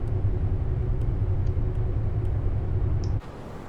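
Steady low engine rumble from a Piper Aerostar twin taxiing on its nose gear, loud and continuous close by, with a few faint clicks above it, then dropping abruptly to a quieter hum near the end.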